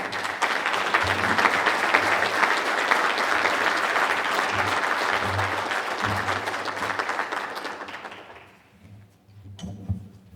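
Audience applause welcoming speaker Robert Woodson Sr. at a Badger Institute event in Milwaukee, Wisconsin: a dense, sustained wash of clapping that fades out near the end, with a brief flurry of sound just after.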